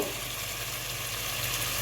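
Spices for Kolkata-style chicken biryani sizzle and fry in a hot pan. A close, steady hiss with faint crackle runs throughout, with no one talking.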